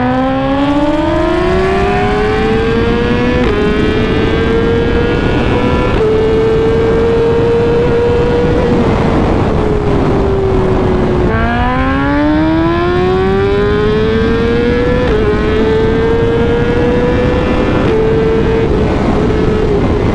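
A BMW S1000RR sport motorcycle at speed on a highway, its engine wailing loud and close over rushing wind, pitch climbing through each gear before brief shift dips, repeated across two long accelerations.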